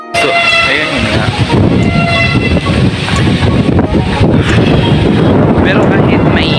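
Strong wind buffets the microphone outdoors in Lipa City, Batangas, a loud continuous roar with gusty fluctuations and some background noise.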